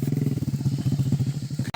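Motorcycle without brakes bumping along a rough, uncertain dirt road on a tribal mining trip, its engine close and loud with a fast, throbbing low pulse and rattling clatter, cut off abruptly at the end.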